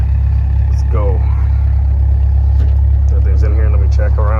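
The engine of a 1991 Toyota Corolla DX drones low and steady, loud and close as the car is driven inside, while someone talks over the rumble.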